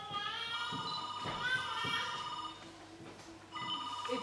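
A telephone rings repeatedly in an indoor scene, a faint, tonal ring repeating under quiet background sound.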